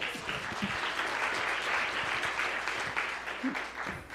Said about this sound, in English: Please let us give Reverend Still a round of applause.